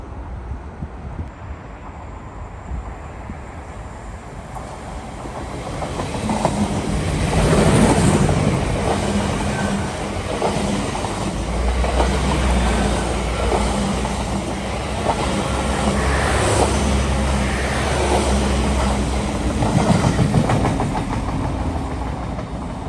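A Northern Super Sprinter diesel train rolls into a quiet station platform, its engine rumble and wheel clatter building from a low idle to a loud, close pass with rhythmic clicks on the rails, and no voices.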